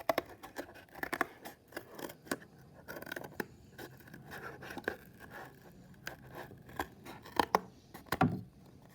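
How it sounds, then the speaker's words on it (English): Scissors snip and crunch through cardboard for a face mask, a long irregular series of close cuts with scraping and rustling between them, quiet and with no talk. "so you shouldn't have any trouble cutting your cardboard"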